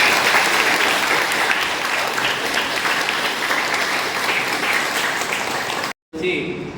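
An audience at a yoga gathering for a district collector breaks into sustained, dense clapping, loud and steady for several seconds before cutting off abruptly near the end.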